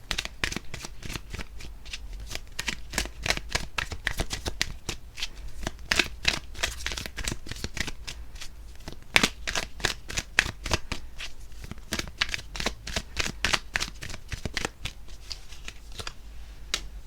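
Tarot cards being shuffled by hand, a steady run of quick papery riffles and flicks repeating close to the mic for the whole stretch, with no talking over it.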